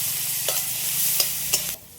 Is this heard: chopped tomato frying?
yes